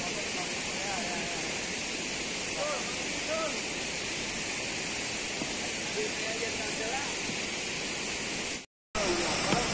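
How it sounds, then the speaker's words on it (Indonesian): Tall, wide waterfall with several strong streams of water, a constant close hissing roar that holds steady throughout before a brief cut, with faint voices beneath. "tingkat ketiga merupakan air terjun paling tinggi dan lebar dengan beberapa aliran air yang deras"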